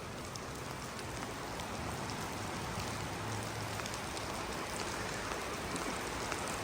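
Heavy rain pours down in a dense, steady hiss that stays constant throughout, with no voices.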